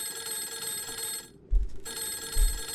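A telephone rings inside a game, its bright, steady bell tone sounding almost continuously, breaking off for a moment near the middle and then resuming, with a couple of low thumps underneath.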